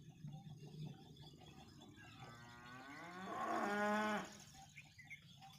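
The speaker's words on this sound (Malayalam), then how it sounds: "നമ്മുടെ ഫുള്ള് പൈക്കൾ" A cow on a farm gives one drawn-out moo that swells and fades, fairly close, against quiet background noise.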